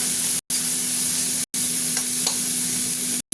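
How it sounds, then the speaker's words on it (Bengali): Sliced onion fries in a hot pan until golden, giving a steady, close sizzle with faint stirring scrapes, broken by a few short moments of silence. "পেঁয়াজটা একদম গোল্ডেন করে ভাজবো।"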